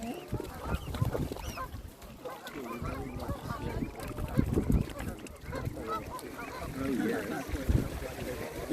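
Geese honking loudly and continuously among swans and other waterfowl at Abbotsbury Swannery in Dorset, a dense noisy chorus of calls close by, with a person's voice faintly mixed in.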